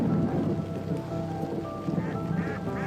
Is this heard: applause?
no